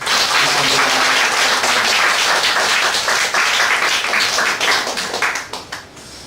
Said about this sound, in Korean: 다시 한 번 더 박수로 감사합니다